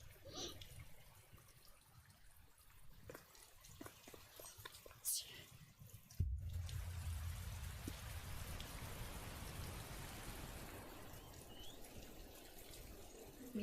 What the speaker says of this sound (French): Ah ouais, il pleut